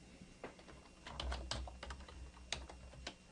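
Quick, light tapping on a computer keyboard, an irregular burst of keystrokes at close range in a quiet room.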